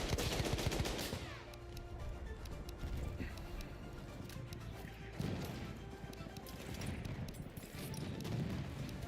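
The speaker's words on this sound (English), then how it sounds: "Enemy machine gun." Enemy machine gun fire in the Battlefield 1 video game, a burst of rapid gunshots crackling over dense battlefield noise, with more distant shots and clatter continuing through the scene.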